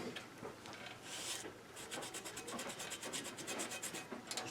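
Rag rubbing over a vintage cast iron child's lamp to wipe off rust loosened by electrolysis, a steady close scrubbing rasp with quick repeated strokes toward the end, no voices.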